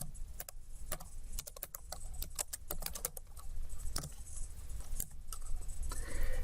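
Rapid clicks from fingers typing on a computer keyboard while a form is filled in. The keystrokes come in quick uneven bursts with short pauses between them. They sound close and fairly quiet over a low room hiss, and nobody speaks.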